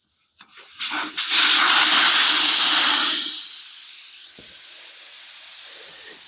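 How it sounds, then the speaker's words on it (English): Air rushes out of an ATV tire through the open valve stem once the stem is removed: a loud, steady hiss for about two seconds that then drops to a fainter, lingering hiss, with no talking. "take your valve stem out. Want to let the air out of the tire"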